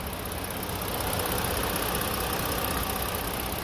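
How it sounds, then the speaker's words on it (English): 2014 Ford Explorer Police Interceptor AWD with a 3.7 liter flex fuel engine idling, a steady close, even hum with a faint rattle and no changes in pitch, heard alone. "Motor sounds really good"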